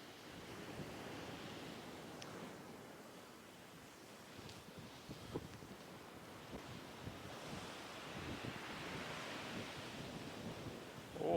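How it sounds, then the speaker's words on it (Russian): Stormy sea surf rolling onto the beach at Livadia, Crimea, a steady roar of breaking waves with gusting wind buffeting the microphone, swelling louder toward the end. "Ох, там какие волны"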